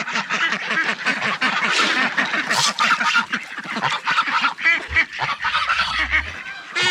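Ducks quack in a busy, overlapping chorus close by, calling almost continuously in quick bursts, with a brief low thump near the end.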